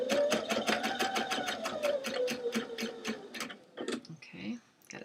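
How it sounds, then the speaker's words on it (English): A home sewing machine runs a straight stitch, joining tank-top fabric into a sundress with a rapid, even mechanical chatter for about three and a half seconds before it stops and light handling sounds follow. "I'm going to do a straight stitch"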